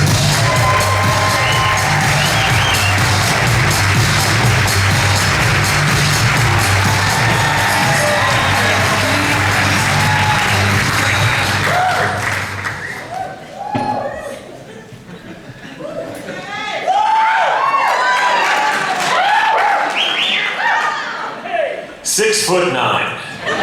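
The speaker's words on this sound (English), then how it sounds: "a big round of applause for Travis Nelson" A theatre audience at Edmonds Center for the Arts bursts into dense applause and cheering with whoops, sustained for about twelve seconds before fading into scattered claps and chuckles.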